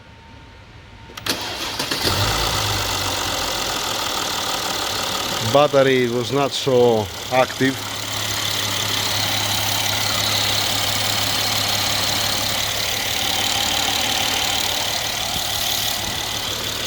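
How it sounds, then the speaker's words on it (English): A 2015 Mercedes ML 400 with 171k km cranks briefly and fires up, then settles into a steady, smooth idle that runs on alone, with a short spoken remark during the start. "Start the car."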